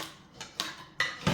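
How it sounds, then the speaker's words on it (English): Garlic cloves are crushed under a kitchen knife on a board, giving four short, sharp knocks and crunches spaced unevenly, close up and fairly loud. "the easiest way to slice these is you just kind of just crush it with the knife"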